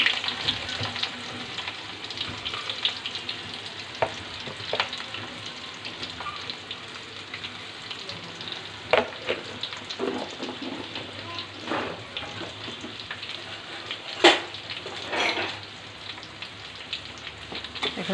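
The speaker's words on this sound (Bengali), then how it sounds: "পেঁয়াজটাকে ভালো করে ভেজে নিব" Onions frying in a pan with cinnamon for a spiced liver dish, a steady close sizzle with occasional louder pops and stirring scrapes running throughout, no talk.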